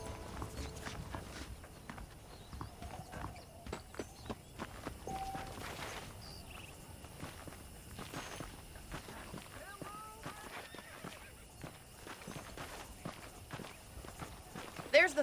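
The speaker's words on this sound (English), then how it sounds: "The horses are saddled up over here." Horse hooves in Red Dead Redemption clop steadily at a walking pace, soft and close, with faint background ambience and occasional brief sounds.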